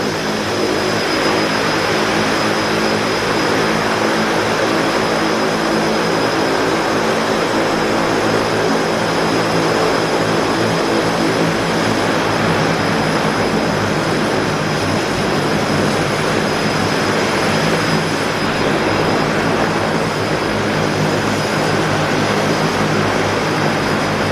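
A de Havilland Twin Otter floatplane at a float base gives off a steady, loud engine and propeller drone that holds without a break for the whole stretch.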